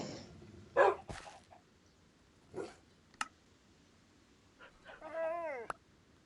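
A Minecraft dog gives a few short, faint, sharp yips spread through otherwise quiet game audio, with a brief whining, warbling cry near the end.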